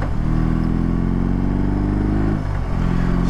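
A 2022 BMW R18 Transcontinental heavy cruiser engine drones loud and close, its deep, steady rumble dipping briefly as the heel-toe shifter changes gear, then picking back up.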